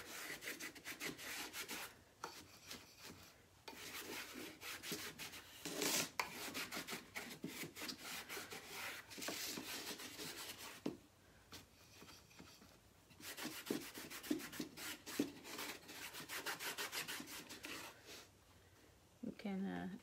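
Minwax Special Dark stained wax is rubbed onto a wooden board in steady scrubbing strokes, a dry rasping texture broken by brief pauses. A voice can be heard faintly at times.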